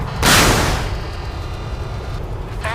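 An incoming missile exploding in the naval video game Modern Warships: a sudden loud, broad blast that booms and then decays into a long rumbling roar, with a brief warbling electronic tone near the end.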